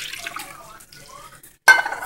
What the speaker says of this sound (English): I rinse out the cans because I want to get all the tomato-y goodness out of them.